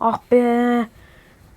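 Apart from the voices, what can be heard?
None of the usual background noises is heard.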